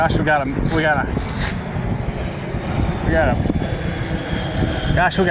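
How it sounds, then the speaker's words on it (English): A jumbo jet passes low overhead near a wooded campsite, a steady broad roaring rumble mixed with wind buffeting the microphone while someone talks over it throughout. "jumbo jet low to the ground"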